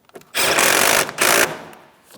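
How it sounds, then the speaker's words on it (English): A tool tightens an 8mm-headed hose clamp on the air inlet tube of a 2007-2014 Ford Edge 3.5L, giving two loud close whirring bursts in quick succession, the first longer than the second. "tighten your 8mm headed clamp"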